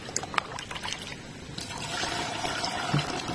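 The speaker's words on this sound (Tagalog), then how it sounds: "Lagyan natin ng tubig." Water is poured in, giving a trickling, splashing fill that swells and steadies over a few seconds after some light clicks and handling noises at the start.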